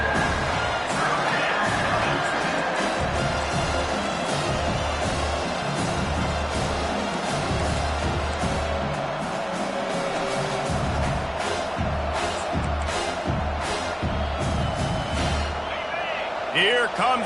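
A home crowd at an American football game roars steadily throughout as the defense faces third down, a broad sustained wall of cheering beneath a commentator's continuous play-by-play talk.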